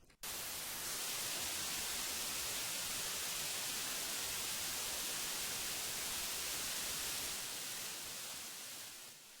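Loud, steady burst of radio static, a dense hiss that holds for several seconds at full strength after a brief click, then eases slightly at the end, with no voices.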